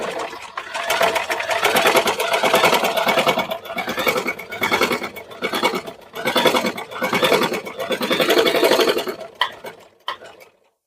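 A sewing machine stitches embroidery on a neckline, running in loud, steady mechanical chatter for several bursts of a second or two, separated by brief slowdowns, before stopping near the end.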